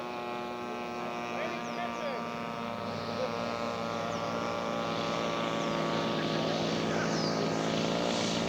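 Scale model propeller aircraft coming in to land at an air show, its engine a steady droning buzz throughout, with people talking faintly in the background.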